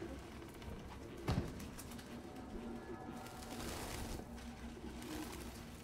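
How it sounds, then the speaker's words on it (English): Pigeons coo softly in the Detroit: Become Human video game, a low repeated cooing that runs under ambient city background with a brief flutter or thump near the start. "Excuse me, bird."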